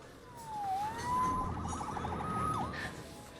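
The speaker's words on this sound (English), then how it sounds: "Saved by the siren." A police siren wails in Marvel's Spider-Man Remastered, its tone rising and dipping continuously over an ambient city bed, loud and close throughout with no voices.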